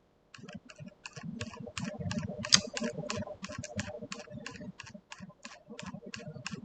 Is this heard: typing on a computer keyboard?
yes